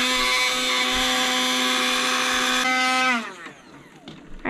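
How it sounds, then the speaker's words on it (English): A steady high-pitched motor whine from an immersion blender puréeing bananas runs continuously, then spins down and cuts off near the end. "I'm gonna use my emulsion blender just to zap it a little bit."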